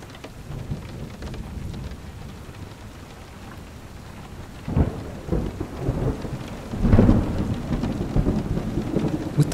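A thunderstorm with steady rain falling, low rumbles of thunder swelling in the middle and again toward the end over the continuous patter, with no voices.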